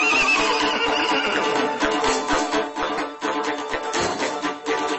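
A Yakut horse neighs in a loud, shrill whinny that wavers and trails off over several seconds, close by, with no talking.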